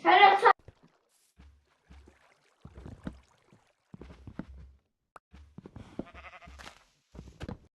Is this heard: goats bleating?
yes